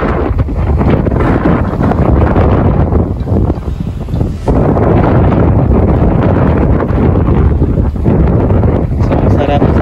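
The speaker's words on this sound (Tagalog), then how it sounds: "Nililipad na yung mga plastic sa hangin." Wind blowing at Manila Bay, buffeting the microphone: loud, continuous rumbling gusts, dipping briefly midway and then surging back, with a voice speaking over it.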